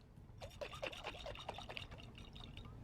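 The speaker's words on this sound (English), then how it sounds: "So what I always do is run a little bit of water" Water run from a tap into a glass pasta sauce jar, gurgling and trickling in a quick series of bubbly, rising pulses, faint and close.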